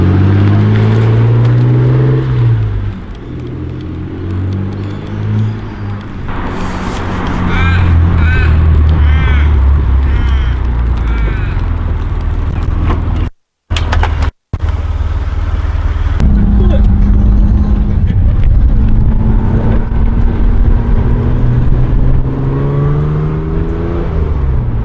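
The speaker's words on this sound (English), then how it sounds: "Just gonna drop the clutch, dude, and it just fucking lights them up." A Toyota MR2 with a new exhaust launches hard as the clutch drops and the tyres spin, a loud rising engine roar with a sharp cut near the middle, and people talk over it.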